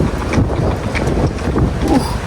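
Strong cold wind buffets the microphone outdoors in Belgium, a loud, rumbling low roar with uneven gusts throughout, no voices.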